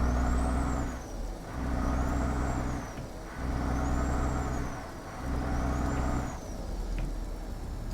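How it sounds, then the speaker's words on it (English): Basic 6x4 truck in a trucking game: a continuous diesel engine drone swells and dips in a regular cycle, with airy hissing bursts close up and no talk. "So we are using a pretty basic truck today"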